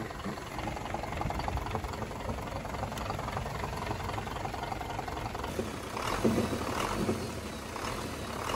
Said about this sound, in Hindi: इंजन की आवाज चेक करते हैं।